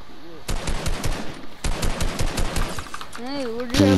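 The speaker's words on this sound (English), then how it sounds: "You're supposed to shoot people in Fortnite." Rapid automatic gunfire in Fortnite comes in two dense bursts of loud, close shots, followed by tonal game effects and a final impact near the end.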